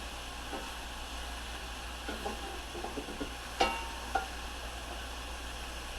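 Sirloin steak for fajitas sizzles steadily in a hot pan, with soft scraping and a couple of sharper clacks as pieces are turned over.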